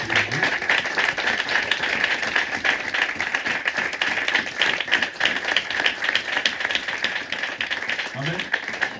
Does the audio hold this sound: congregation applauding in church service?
yes